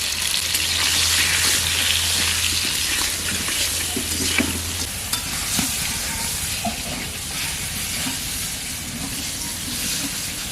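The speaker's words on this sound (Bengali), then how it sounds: "পটল ভাজা শেষ, এখন নামিয়ে নেব।" Slices of pointed gourd fry in hot oil in a pan, a loud continuous sizzle and hiss with intermittent spatula scrapes and stirring clatter, close up and without talk.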